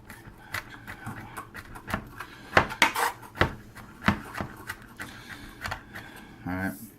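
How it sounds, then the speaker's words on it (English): A kitchen knife chops garlic cloves on a cutting board in a run of irregular sharp taps and thuds, some louder than others, with a person talking quietly in the background. "I'm just chopping up the garlic."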